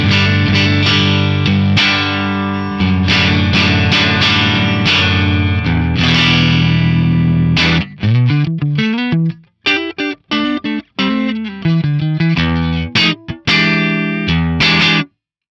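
Electric guitar on the neck pickup runs through an Axe-Fx III set to a clean Fender-style amp with slight grit, first strummed sustained chords, then choppy picked notes and short phrases with gaps, loud and up close, no talking.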